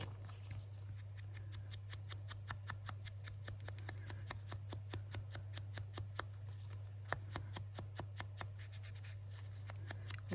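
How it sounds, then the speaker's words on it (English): Scissors snipping out a paper sticker for a junk journal, a long run of quick, crisp, evenly spaced cuts close to the mic over a steady low hum. "So I'm going to cut this out."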